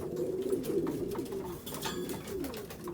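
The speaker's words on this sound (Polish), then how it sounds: "Już po, kończą dojadać gołębie." Racing pigeons coo in low, throaty repeated calls while finishing their feed, close by, with light pecking and rustling underneath.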